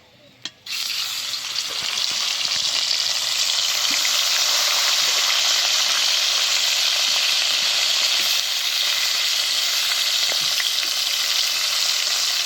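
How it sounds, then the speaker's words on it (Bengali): Bhola fish frying in hot oil, a loud dense crackling sizzle that bursts in suddenly after a quiet start and then holds steady and close, with no talk. "বাকি মাছগুলো ওইভাবেই ভেজে নেব"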